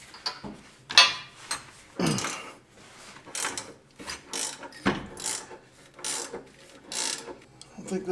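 A ratchet wrench works on a Jeep LJ muffler bolt, giving repeated close clicking and ratcheting bursts in an irregular rhythm with brief pauses between strokes.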